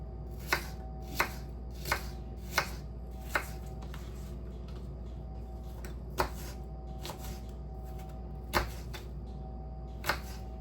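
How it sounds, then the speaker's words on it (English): A knife cuts apple into small pieces for turnovers, making sharp, distinct chops at an irregular pace of roughly one per second, close and crisp over a quiet kitchen hum. "just, slice all my little pieces here"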